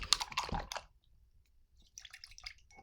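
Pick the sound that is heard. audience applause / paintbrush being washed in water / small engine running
paintbrush being washed in water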